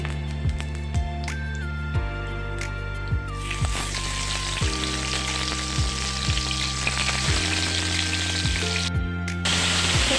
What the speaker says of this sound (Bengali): তেল গরম হয়ে আসলে এর ভিতরে মাছগুলো ছেড়ে দেব